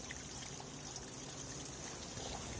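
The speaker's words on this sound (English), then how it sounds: "Just hear that water, just a moment." Water trickles steadily at a holy spring well inside a rebuilt well house in Penrhys, Rhondda. The flow is a faint, continuous wash with no pauses, and no one speaks.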